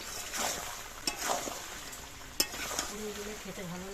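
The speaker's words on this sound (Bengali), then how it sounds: "এবার লো আছে মাংসটা কষাবো, নইলে কড়ার নিচে ধরে যাবে আর মাংসটা কষানো যাবে না" Meat stir-fries on low heat in a kadai, soft sizzling punctuated by scraping spoon strokes and a sharp clack, with a faint voice near the end.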